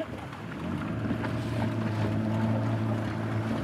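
A boat travels along a jungle river in Taman Negara, Malaysia, its steady engine drone mixed with water rush and wind buffeting the microphone, continuous and fairly loud throughout.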